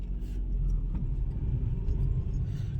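A Volkswagen Polo diesel car pulls away in first gear with a low-pickup fault, its engine giving a steady, close, continuous low rumble with no talk.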